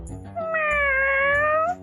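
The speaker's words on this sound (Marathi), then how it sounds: "मांजर आहे का इकडे कुठे?" A single drawn-out cat meow rises and holds as a clear, tonal, fairly loud call for over a second. It sounds close and stands alone, with only faint background noise around it.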